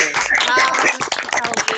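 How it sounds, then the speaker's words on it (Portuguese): Online meeting participants clap through open microphones, scattered hand claps mixed with overlapping speech from several people. "Palmas para vocês."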